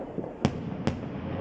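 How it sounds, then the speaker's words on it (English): Two sharp firework bangs over a fog-covered London on New Year, each a distant crack with a short rumbling tail, spaced about half a second apart over a steady low background hum. "I hope you can see these fireworks a bit clear because it is a bit"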